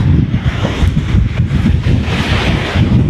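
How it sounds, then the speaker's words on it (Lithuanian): Strong gusty wind roars and buffets the microphone continuously on a walk through a windy mountain park, loud and rumbling throughout. "šiandien labai vėjuota"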